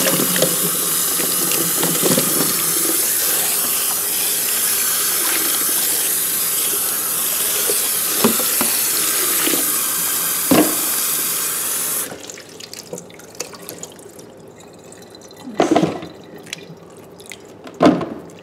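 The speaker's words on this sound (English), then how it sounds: "I rewash one more time with the blend water." Tap water runs steadily over Barbados cherries being rinsed in a kitchen sink, then shuts off, leaving scattered drips and light handling splashes.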